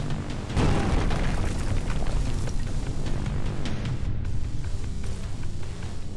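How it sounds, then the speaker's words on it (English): Explosions from the Terminator Resistance video game during an ambush: a dense, continuous barrage of loud booms and rumbling blasts sustained throughout, with no talk. "Things are exploding."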